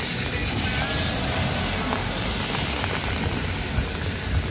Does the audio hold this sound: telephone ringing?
no